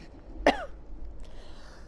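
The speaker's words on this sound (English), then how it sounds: "That laser beam dude just upset me so much it gave me a cough." A single short, sharp cough close to the microphone, brief and loud against a quiet background.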